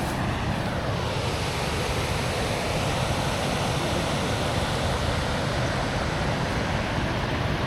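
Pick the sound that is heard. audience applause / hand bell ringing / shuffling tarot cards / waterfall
waterfall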